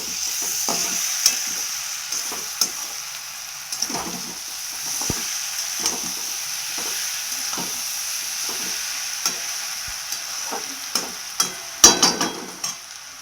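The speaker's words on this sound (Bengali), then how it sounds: "মশলা ভেজে মশলার উপর সবজিটা তুলে দিয়েছি। এখন কষানোর পালা," Potato, pumpkin and cabbage sauté over fried spices in a wok, giving a steady close sizzle broken by repeated scraping stirs, with a sharper burst of clatter near the end.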